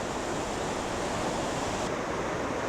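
Steady broadband roar of the Potomac River rushing over rocks below the dam at Great Falls, a dense continuous wash of water without breaks, close and fairly loud.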